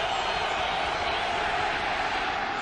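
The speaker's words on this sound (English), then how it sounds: "And the crowd comes alive" A stadium crowd at a 1998 NFL game between Pittsburgh and Detroit roars in a steady, dense wash of distant cheering that holds at one level throughout.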